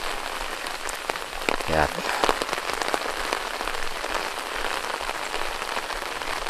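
Steady rain patters around a small hut in the middle of rice fields, a dense even hiss of drops on surfaces throughout, with a brief spoken word near the start.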